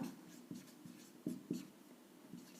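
Pen writing notes by hand on paper, producing soft, close scratchy strokes in an irregular rhythm of short bursts, faint and alone in a quiet room.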